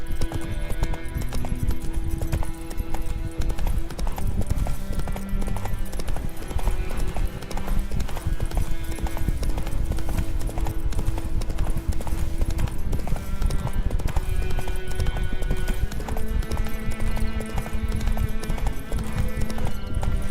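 A horse gallops in The Witcher III video game, rapid rhythmic hoofbeats over game music, loud and continuous.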